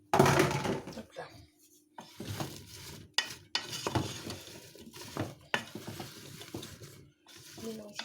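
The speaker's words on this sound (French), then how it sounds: "Mélanger un petit peu." Apples being stirred into melted butter in a pan, with soft scraping and clinks of a utensil against the pan in several short bursts alongside a faint sizzle, close up and moderately quiet.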